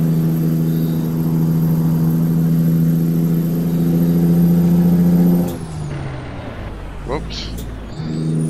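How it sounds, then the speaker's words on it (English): A steady, droning Kenworth K100 truck engine in American Truck Simulator hums loudly with strong low harmonics, then drops off abruptly and idles more quietly near the end. "the truck sounds pretty good"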